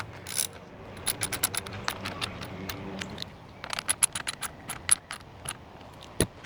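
Roof rack bolts being snugged down with a stubby wrench, a run of sharp metallic clicks and ratcheting ticks in irregular bursts, close and fairly quiet.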